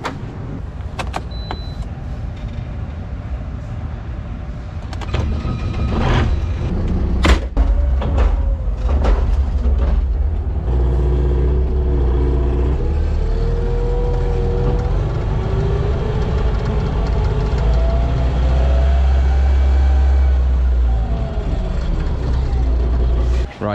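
Old Manitou telehandler being driven, its diesel engine a steady low rumble with creaks and clunks of the machine moving, loud and close throughout.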